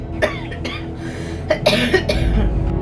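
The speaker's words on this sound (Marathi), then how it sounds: "खोकलून खोकलून जीव गेला" Several harsh coughs come close together, loud and near, over a continuous low background hum.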